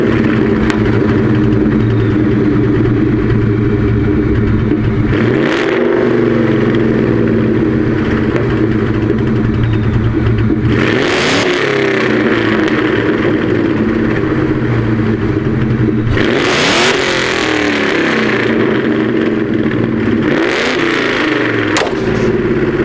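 A Mustang GT fitted with long tube headers, an off-road H-pipe and a Borla Atak exhaust idles with a deep, lumpy burble, broken by three sharp, loud revs that climb and fall back, each rising clearly above the throaty rumble.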